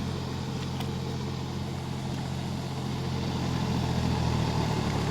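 A John Deere 5050D GearPro 4WD tractor drones steadily while puddling a wet, muddy field, its even engine rumble running unbroken and swelling slightly toward the end.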